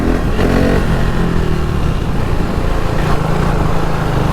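KTM RC 390 sport motorcycle engine, recently repaired after fuel pump trouble, roars loud and close with continuous throttle revving and no talk.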